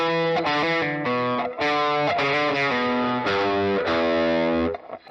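Distorted electric guitar plays the ending of a song, a thick, sustained run of chords and notes with chorus-like shimmer, loud and close, cutting off near the end with no speech.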